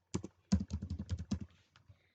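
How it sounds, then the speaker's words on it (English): Quick bursts of typing on a computer keyboard, close and clear, keys clicking in an uneven run of a dozen or so strokes before trailing off. "Like here I'm typing 5."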